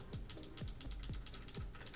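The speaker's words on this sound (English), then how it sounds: "You hear these clickies during my videos, and that's my clicky keyboard." Rapid clicky keystrokes on a wired Logitech G815 mechanical keyboard, a steady run of sharp, close clicks with a few heavier key thumps, heard alone without talk.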